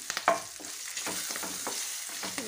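Ridge gourd peel frying in a pan for chutney gives a steady close sizzle with soft stirring scrapes throughout.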